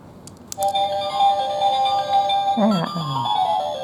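A bright electronic melody from a toy princess magic wand plays steadily with chiming tones, and a short warbling sound effect partway through.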